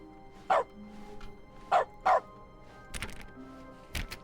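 A dog in The Stanley Parable video game, in dog mode, barks in short sharp bursts, three loud barks followed by a couple of softer yips, close and clear with no talking.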